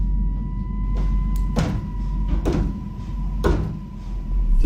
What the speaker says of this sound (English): I've been hearing banging for a good little while now. It comes from the bathroom door over there